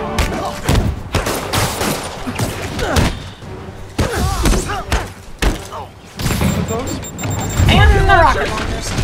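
Enemy gunfire in Marvel's Spider-Man: repeated loud shots and thuds in irregular bursts, mixed with impacts and combat noise, with a voice talking over parts of it.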